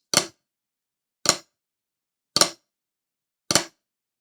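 Four separate flam rudiments on a drum, a quiet grace note landing just ahead of each accented stroke, evenly spaced about a second apart, sharp and close with silence in between.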